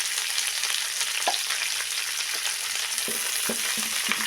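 Curry leaves fry in hot oil for curry leaf rice, giving a steady close sizzle with a few soft clinks and stirring knocks near the end.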